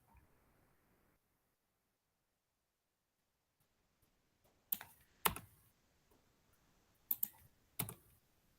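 Several sharp key clicks from C code being typed on a computer keyboard, arriving in two small bursts after a quiet pause, close and fairly crisp with no voice.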